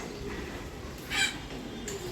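Chickens and ducks kept in cages on a rain-dampened rooftop garden, one brief clucking call rising at mid-distance over a steady background hiss, with no talking.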